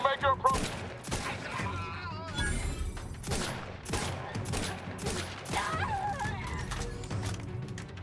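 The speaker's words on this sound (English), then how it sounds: "Sort of want to switch out this gun because it makes so much noise." Gunfire from the player's gun in The Outer Worlds 2, loud repeated bursts of shots layered over game noise and music, with a voice talking at moments.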